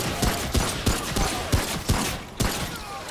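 Video game gunfire rings out in a rapid volley of sharp shots at an uneven rhythm, close and fairly loud, briefly pausing near the end before one more burst.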